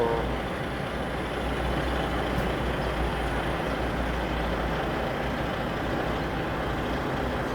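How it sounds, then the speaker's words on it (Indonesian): Luxury Volvo bus on the Palembang–Jakarta–Bandung route, idling or moving at a bus terminal: a steady, dense diesel engine rumble with broad road noise, moderately loud and unbroken, no talking. "bus paling mewah untuk rute Palembang Jakarta Bandung, luar biasa"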